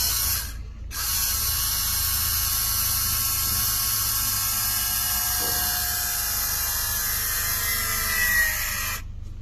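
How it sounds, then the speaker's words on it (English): A Nissan R32 GTR's Atessa 4WD hydraulic pump primes with a steady high mechanical whir and buzz for about eight seconds, then shuts off, heard up close with no talking. "we're going to pay attention to see if the system primes properly and the pump shuts off as it should"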